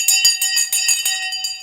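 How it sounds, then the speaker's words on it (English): A bell is rung repeatedly, a bright metallic ringing struck about every fifth of a second in a steady, loud clatter with sustained tones between strikes. "We rang the bell anyway."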